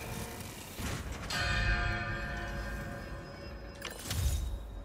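A bell in a hangar in Marvel's Spider-Man 2 strikes once and rings on with a long, echoing metallic tone, then a second strike comes near the end.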